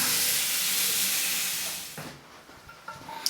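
Running water rinsing a face after a wet shave with shave soap, a steady close hiss for about two seconds that cuts off, followed by faint handling clicks.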